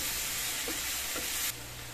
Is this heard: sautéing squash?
yes